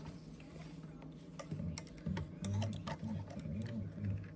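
A sewing machine running an eighth-inch top stitch with a small-weight needle: a quiet, steady mechanical whir with rapid rhythmic ticking, close by and alone.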